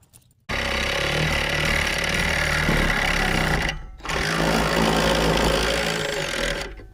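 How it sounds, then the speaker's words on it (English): A power drill with a bigger bit grinds steadily into scrap go-kart metal, a loud continuous whine that pauses briefly midway before resuming. "Let's get us a bigger drill bit."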